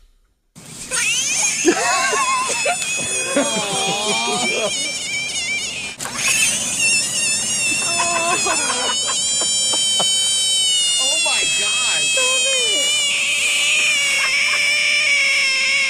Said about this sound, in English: Let's hear the sound of a little tree frog who screams whenever humans try to pick him up.